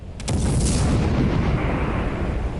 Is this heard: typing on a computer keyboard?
no